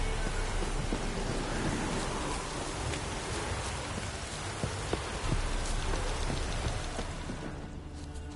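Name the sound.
rain and thunder of a storm in a video game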